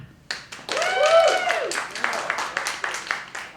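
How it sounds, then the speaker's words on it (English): An indoor audience bursts into clapping, a loud spell of mixed hand claps that swells quickly and then thins into scattered individual claps, with voices and a rising exclamation over the top. "That was lots of claps, TV audience."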